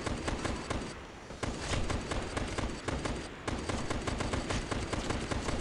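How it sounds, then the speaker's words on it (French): Continuous automatic gunfire aimed at zombies in Last Day Alive, rapid evenly spaced shots hammering loudly with brief pauses between bursts. "Ah mais en fait ça tire pas sur les zombies parce qu'il y a l'autre qui est devant."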